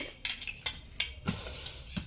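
A spoon clinks against dishes in a home kitchen: about seven sharp, light taps at an uneven rhythm, close by and fairly quiet.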